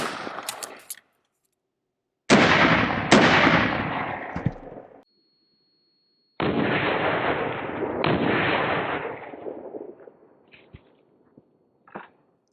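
7.62 Golden Tiger rifle rounds fired from a 16-inch barrel rifle at a multi-curve armor plate, two loud close sharp shots with long ringing decay, followed by fainter clanks and small knocks.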